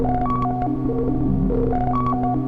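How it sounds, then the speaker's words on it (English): Stylophone DS2 synth with the built-in reverb switched off, playing harsh, buzzy 8-bit tones in short stepped melodic phrases over a steady droning bass, loud and close with no voices. "just nothing but kind of the harshest 8-bit noise you've ever heard"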